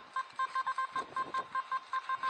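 A metal detector in Park 2 mode sounds its target tone over a gold-plated ring, a rapid train of about a dozen short, clear electronic beeps, close and fairly quiet, with no talk.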